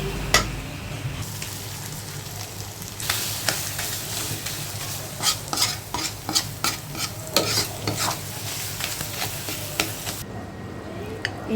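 Spatula stirring and frying mashed taki fish with chopped coriander in a pan, a steady close sizzle broken by repeated scraping strokes, with no voices.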